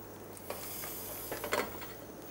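Raw meat pieces dropped into a saucepan (russe) for cold poaching, giving a few soft wet thuds and stirring scrapes at about 0.5 s and 1.5 s over a low steady hum, with no talk.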